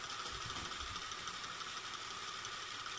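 A small steam engine built from scrap metal and fed by a tiny boiler runs with a steady, close mechanical chugging and hiss, holding an even level throughout with no talk.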